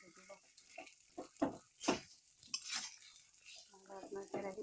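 Potatoes stirred in a kadai over a low flame give repeated scraping strokes in short uneven bursts, fairly close, with a voice heard between them.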